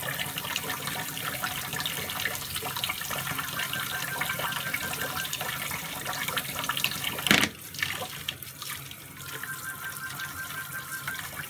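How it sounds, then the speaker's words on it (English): Chalk-type paint brush rinsed under a running tap, a steady, fairly quiet stream of water splashing into a sink with a brief louder splash midway, then the flow settles again. "it just takes a few more runs under the water"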